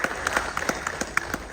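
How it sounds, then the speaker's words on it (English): A live audience claps for Ravichandran at a Telugu film event, a patchy round of applause with individual claps standing out in an irregular rhythm, moderately quiet and heard without any talk over it. "Please give a huge round of applause to Ravichandran sir"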